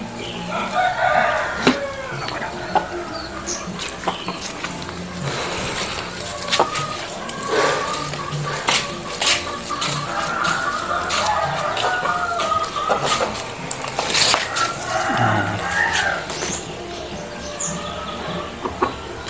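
Bangkok chickens crow and cluck repeatedly while drying in the morning sun, with several loud, near crows over a steady chorus of clucking and other farm birds.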